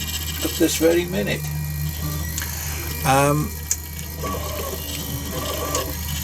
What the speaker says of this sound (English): I've printed a lot of things with my 3D printer. It's buzzing away now on the second part of the fuselage